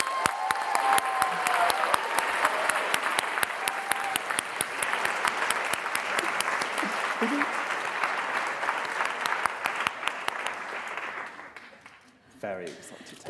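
An audience at a Friday-night literary event greeting the author with dense, sustained applause that rolls on steadily with some whoops and cheers mixed in, then fades out as it ends.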